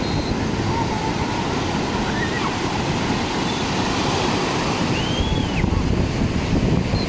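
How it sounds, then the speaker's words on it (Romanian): Big sea waves roll onto the beach at Albena, Bulgaria, a loud, continuous roar of surf with wind buffeting the microphone throughout, no voices heard. "Azi valuri mari."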